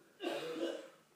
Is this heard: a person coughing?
yes